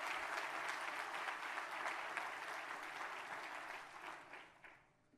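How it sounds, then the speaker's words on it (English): A seated audience at a workforce recognition event gives a hearty round of applause, dense sustained clapping that holds steady and then thins and fades out near the end. "Let's give them a hearty round of applause."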